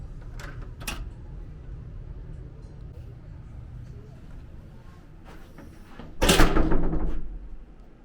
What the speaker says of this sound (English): Aggressive door shut.